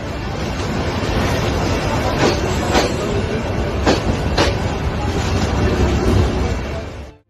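A train rushes past a roadside fruit stall right beside the railroad in Bangladesh, a loud, continuous close roar with rattling wheel clacks over several seconds before it suddenly cuts off.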